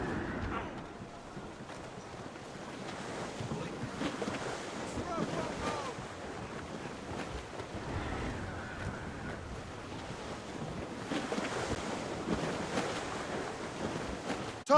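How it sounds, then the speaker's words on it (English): Steady wind rushes over open sea aboard a sailing ship in the video game Assassin's Creed Rogue, with a continuous roar of gusts and waves throughout and no break. "That wind's trouble, Captain Cormac."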